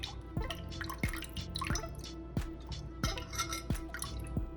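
Rice vinegar trickles from a bottle into a soy and sesame oil sauce, landing as a close series of distinct drips and small splashes at an uneven pace.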